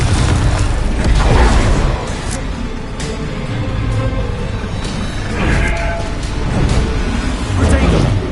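Repeated Confringo spell explosions in Hogwarts Legacy, a loud, continuous barrage of booms and bursts with rumbling low end and sharp crackles, mixed with combat effects and voices over several seconds.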